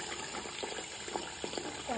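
Tap water runs to fill a baby bath, a continuous gushing flow with splashy bursts, fairly close and moderately loud.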